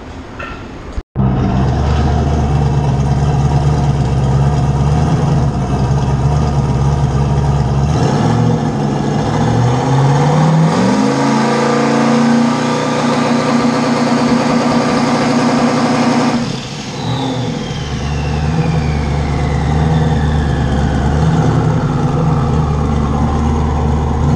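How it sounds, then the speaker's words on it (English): A Ford Mustang on a Clayton chassis dyno in a shop roars steadily at high revs for over twenty seconds, climbing and sweeping in pitch through the gears, dipping briefly near the end before pulling hard again, with no talk. "maybe one more tug on the Mustang, see if we can get it planted, and we'll work on Christian's car."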